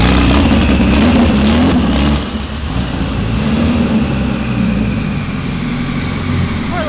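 A 1000 WHP Mitsubishi Evo 9 on 48 PSI revs hard with a loud, close engine roar, then eases to a lower rumble that holds steady for the rest of the clip.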